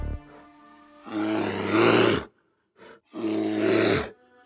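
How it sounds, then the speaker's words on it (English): Two deep, rumbling Kodiak bear roars, each lasting about a second, loud and close with a short pause and a faint grunt between them. "First, the Kodiak bear, one of the largest carnivores in the world."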